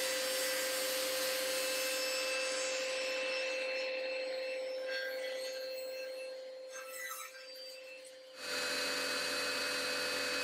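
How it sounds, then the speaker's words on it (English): Table saw blade cutting through 1 cm plywood torn from a shipping crate as a fence end is trimmed on a miter sled, a steady broadband whine and rasp that drops away near the end to a quieter motor hum. "I cleaned up one end of the fences using my miter sled"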